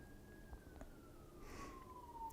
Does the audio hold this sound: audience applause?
no